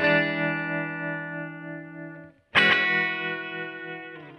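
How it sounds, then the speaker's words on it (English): Clean Telecaster electric guitar with a tremolo pedal for a rockabilly tone: a sustained chord pulses and fades, breaks off briefly, then a fresh strum rings out close and clear. "on the Telecaster, I'm going to turn on that lovely tremolo"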